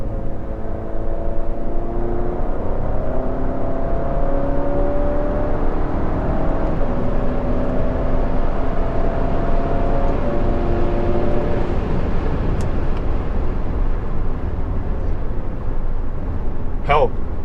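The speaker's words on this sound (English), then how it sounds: "for a 2-liter 4-cylinder motor, that's quite a bit of go" A 2017 Alfa Romeo Giulia Super with a 2-liter four-cylinder engine accelerates, its low, steady engine drone heard from inside the car under a person talking throughout.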